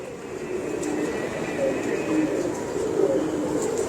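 Rampuri breeding pigeons coo continuously close by, a soft low burbling with a faint steady hum and light clicks in the background.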